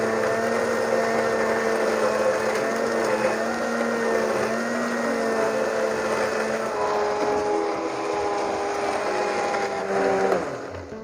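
A kitchen blender whirs steadily while blending a loquat milkshake with ice, a loud continuous motor drone with a shifting pitch that cuts off abruptly near the end.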